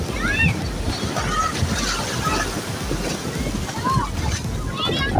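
Sea waves rush and wind buffets the microphone at Hawksbay beach in Karachi, a steady roaring wash with distant voices and faint shouts.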